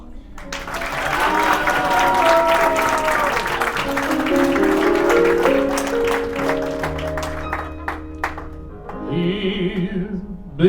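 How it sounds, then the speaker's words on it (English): Audience round of applause at a charity show, clapping that blends with tonal music and voices, swelling early then easing as a melodic passage takes over toward the end. "Let's mask this awkward segue with another round of applause."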